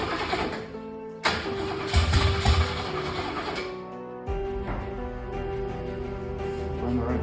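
A 1968 Ford Mustang engine cranks and catches, a loud rough start near at hand that surges in bursts, dips briefly, then settles into a steady running rumble.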